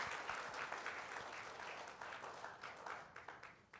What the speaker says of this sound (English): we give Atomy a big round of applause.